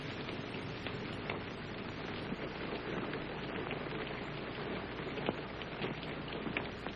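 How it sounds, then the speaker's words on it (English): Steady rain patters on surfaces in a dense, even hiss with scattered individual drops, heard alone at a soft, moderate level. "It's only the rain."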